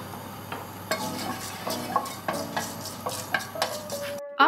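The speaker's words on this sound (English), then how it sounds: "in a preheated pan, add some oil. Then add the fenugreek seeds." Fenugreek seeds hit hot oil in a preheated pan, crackling and popping in quick irregular bursts over a continuous sizzle, with a few utensil clinks before the sound cuts off abruptly.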